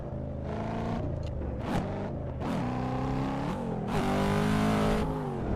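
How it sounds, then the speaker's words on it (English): Cadillac CT5-V Blackwing engine in the racing game Assetto Corsa, loud close revving with repeated upshifts and gear changes, the pitch climbing and dropping several times, alone without talk. "the car that I'm driving in-game is a Cadillac CT5 V Blackwing"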